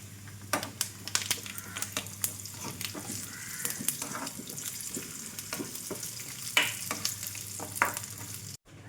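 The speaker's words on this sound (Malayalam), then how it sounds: "നമുക്കിതിലേക്ക് അണ്ടിപ്പരിപ്പ് ഇട്ട് കൊടുക്കാം. ഇനി നമുക്ക് മുന്തിരി ഇട്ട് കൊടുക്കാം." Cashews and raisins frying with coconut pieces in a pan for Onam ada payasam, a bright continuous sizzle broken by frequent scraping stirs and crackling pops, close and alone.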